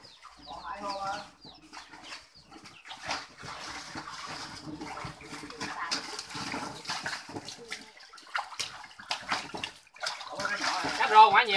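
Water is pumped into a pond on a rural fishing trip, splashing and gushing steadily nearby while people talk over it and chickens cluck in the background.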